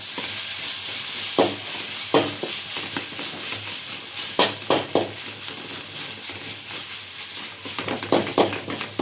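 Tomato stirred into avalakki upma frying over a high flame, a spatula scraping the pan in irregular bursts over a steady low sizzle, close and without talking.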